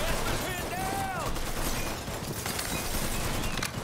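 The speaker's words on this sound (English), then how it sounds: "He's shooting up a brand new casino, I might add." Gunfire in Mafia 3 as a brand new casino gets shot up, a loud, continuous clatter of shots and impacts filling the space alongside game dialogue and a voice talking over it.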